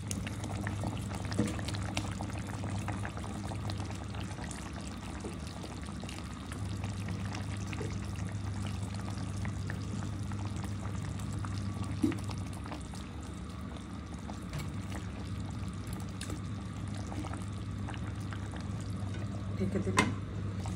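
Hilsa fish curry at a steady low boil in a pot, a soft continuous bubbling hum with an occasional faint clink, quiet and close.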